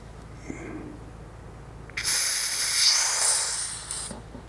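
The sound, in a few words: air released from Fox/ACT mountain bike shock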